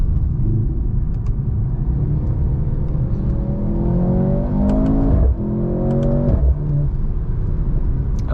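Mercedes-AMG C43 with a 9-speed gearbox, driven on the road, its engine rumbling and climbing in pitch through quick gear shifts. Loud and close from inside the car, with no talking.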